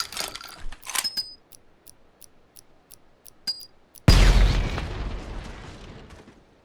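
A single loud grenade explosion in the Project Silverfish game bursts suddenly after a stretch of sparse clicks and ticks, then rumbles and decays slowly over several seconds.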